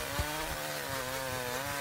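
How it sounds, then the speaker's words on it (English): A chainsaw cutting through PEX tubing, its engine running in a steady harmonic drone that stays loud and close, with a few brief bumps as the chain bites into the plastic. "You could use anything to cut this out. As you see here, I'm using a chainsaw."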